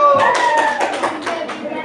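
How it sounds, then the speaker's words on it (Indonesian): Fifth-grade pupils in a classroom clap for a podium winner, a quick run of loud, close claps overlapping cheerful voices and shouting. "Tepuk tangan"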